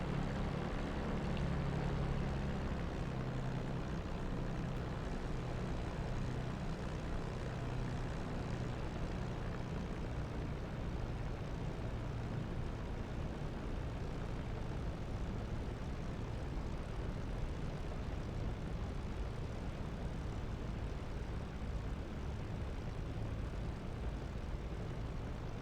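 The propeller engine of a P-51 Mustang drones steadily in a flight simulator game while the plane taxis on the ground. It is a constant, fairly faint hum with no clear change and no talking over its length.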